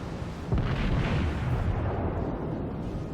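Battleship Colorado fires its guns in the naval game World of Warships, a deep rumbling boom that swells and rolls on as a sustained, loud, dense roar with no speech.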